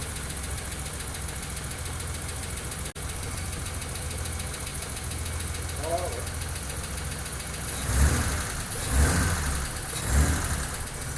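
A 1988 BMW engine idles steadily with a fast, even ticking clatter running throughout, joined near the end by a few louder pulses like revs or nearby knocks.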